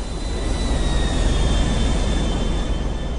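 Steady, loud airplane engine drone from Grand Theft Auto V gameplay, with a constant high whine, continuous and unchanging throughout.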